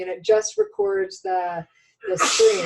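A sudden, sharp sneeze bursts out near the end, right after a short stretch of someone talking through a phone screen-recording demonstration.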